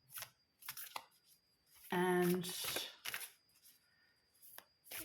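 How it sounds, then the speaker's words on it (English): A deck of Solitary Witch Oracle cards, Lucy Cavendish edition, is shuffled by hand in close, crisp riffling bursts, while a person speaks briefly in between. "So let's give them a shuffle,"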